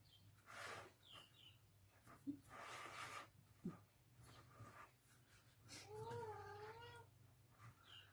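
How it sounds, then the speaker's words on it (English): A cat meows several times in soft, wavering cries, faint and somewhat distant, amid quiet background noise. "There's our kitty cat in the background."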